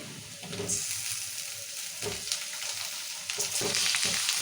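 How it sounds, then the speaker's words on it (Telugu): Tomatoes hit onions already frying in hot oil, bursting into a steady, loud sizzle with crackling bursts and stirring scrapes throughout, no voices over it. "ఇప్పుడు టమాటాలు వేసుకుందాం ఇలా"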